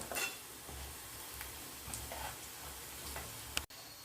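Masala spices roasting with poppy seeds in a pan: a faint, steady dry sizzle with a few soft scrapes and a sharp tap near the end, alone without talk.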